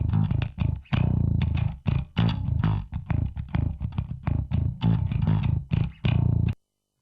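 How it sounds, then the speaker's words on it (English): Heavy metal bass guitar riff played through only a bass amp simulation and bass cabinet simulation, with chunky, distorted, rhythmic palm-muted notes in short bursts and a sudden stop at the end. "a bass tone with only a bass amp simulation and a bass cap simulation on it"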